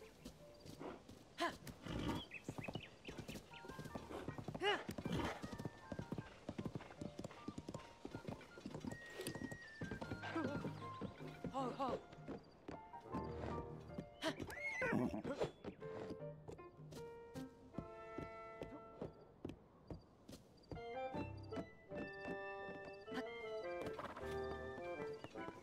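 Steady clip-clopping hooves and a horse's whinny in Zelda: Tears of the Kingdom, with game music and effects layered over the rhythmic hoofbeats throughout.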